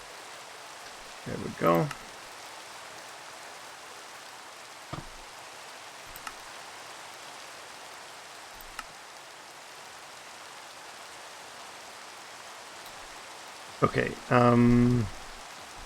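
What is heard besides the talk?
rain in a Minecraft modpack, video game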